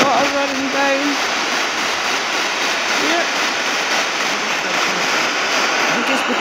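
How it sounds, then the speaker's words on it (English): Rainwater pours down after heavy rain, a loud steady rushing like a stream or small waterfall that fills the whole stretch, with brief faint voice-like tones early on. "Look, there's all the water running down."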